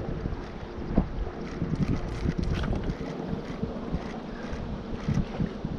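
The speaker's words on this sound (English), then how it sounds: "let the wind kind of blow us in there" Wind buffets steadily across an open boat while fishing for stocked Atlantic salmon in Connecticut, a continuous low rumble of gusts on the microphone with faint water movement and no talking.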